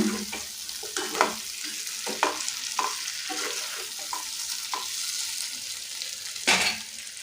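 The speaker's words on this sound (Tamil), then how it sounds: "இந்த மசாலாவை உருளைக்கிழங்கோட நல்லா வதக்கி கொடுத்துருங்க" Steady sizzling of potatoes and spice masala frying in oil, with repeated scraping and stirring strokes from a spoon in the pan.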